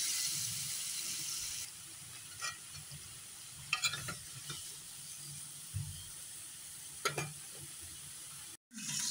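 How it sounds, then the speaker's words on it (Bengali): Bottle gourd goes into frying masala for a hilsa fish curry: a quiet sizzle that drops in level, then intermittent stirring scrapes and clatters, close and without talking. "এখন আমি লাউগুলা দিয়ে দিব।"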